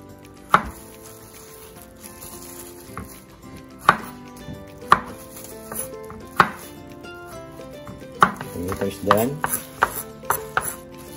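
Garlic being chopped on a cutting board with a knife, sharp distinct chops at irregular intervals that quicken into a cluster of rapid strikes near the end, close and alone without talk.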